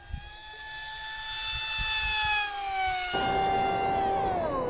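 A Scimitar Mini RC airplane's electric motor at full throttle, a loud steady whine that bends in pitch as the model passes, strong and close throughout.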